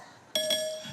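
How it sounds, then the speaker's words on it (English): A debate timer bell rings at a televised Republican presidential debate: one sharp, bright metallic ding that strikes suddenly, then rings on and slowly fades. "When we hear this bell, yes, that means your time's done."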